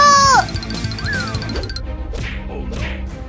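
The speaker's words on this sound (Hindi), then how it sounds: "कैट्स की आवाज आ रही है, लगता है वो किसी मुसीबत में है" Cartoon cats meowing in a Hindi comedy cartoon: a loud, sharp cry opens, then gliding mewing calls sound amid crashing and thwacking effects, with hissy bursts near the end.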